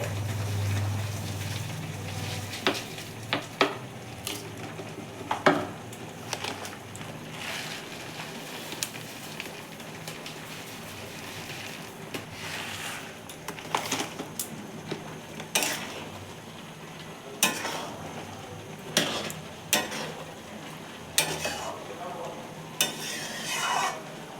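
Oats khichuri being stirred in a pot, with irregular scraping and knocking strokes of a spoon against the metal over a soft sizzle, fairly close and without talk.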